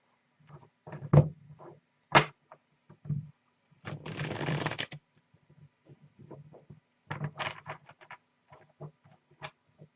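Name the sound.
shuffling a deck of cards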